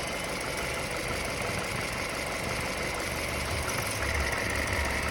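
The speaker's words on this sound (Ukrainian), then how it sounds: "Такий двигунець працює рівно, розходу масла немає, ніде ніяких газів немає." A Subaru Impreza engine idles smoothly and evenly, a steady close mid-pitched rumble with faint mechanical ticking and no talk.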